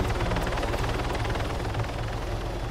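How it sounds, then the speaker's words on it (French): A helicopter in a video game thrums with a steady, fast rotor chop, loud and continuous throughout with no talk over it. "Ah, c'est stylé cet hélico, j'avais jamais vu."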